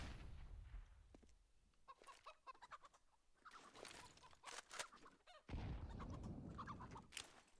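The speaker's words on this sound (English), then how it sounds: "Oh, the chickens clucking around." Chickens cluck in repeated bursts and short squawks on the Inferno map in Counter-Strike, fairly close and busy over several seconds, alongside game footsteps and noise.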